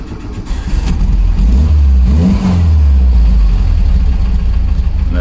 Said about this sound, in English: you simply give it a little blip on the accelerator whilst turning the key